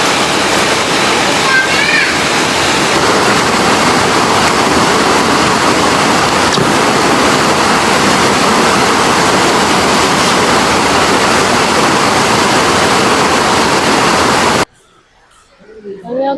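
Heavy rain pouring down on a rainy trail day, a loud, dense, continuous roar close by that cuts off abruptly near the end, followed by quieter sound.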